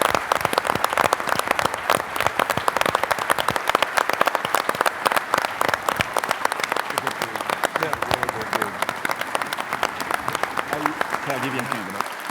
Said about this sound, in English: So let's give Jack Turner a round of applause.